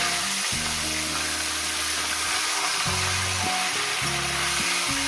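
Chicken pieces frying in a pan over high gas, a loud steady sizzle with constant hiss throughout, alongside low tonal background music.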